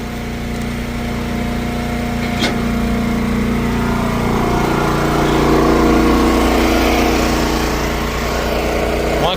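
An engine runs loud and close with a steady droning hum as baling machinery idles down, the pitch shifting slightly midway, with a brief clank early on.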